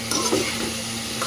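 Turmeric masala is stirred in a frying pan, giving a short burst of soft scraping over a low, continuous sizzle with no voices.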